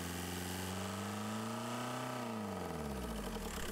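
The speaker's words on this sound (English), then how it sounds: "Rev the engine." A Skoda Fabia engine with a Bosch alternator runs steadily close by, then revs up and settles back down, the harmonic tones rising and falling with engine speed and no talk over it.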